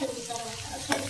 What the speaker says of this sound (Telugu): ఆనియన్ ని ఫ్రై చేస్తున్నాం